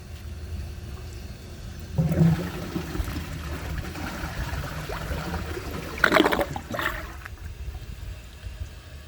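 A 1999 comfort-height Universal-Rundle Atlas toilet flushes through its siphon. A rush of water starts abruptly, swells with a loud gurgling siphon burst near the end, then drops back to a quiet trickle.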